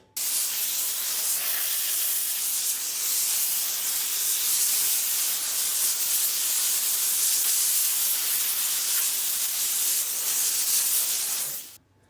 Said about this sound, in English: I'm just going to steam out a lot of these crevices